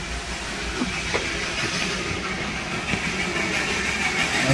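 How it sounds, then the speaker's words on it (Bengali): A small Darjeeling toy train rumbles past with rhythmic clacking and a steady hiss, no voices, the sound holding fairly constant and close. "যেতে যেতে দেখলাম একটা টয় ট্রেন আসছে।"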